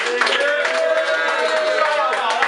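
A crowd at a rap battle cheering and clapping, a steady roar of applause and shouts lasting the whole stretch, fairly loud and close.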